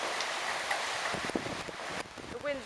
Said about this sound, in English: The rain is something else.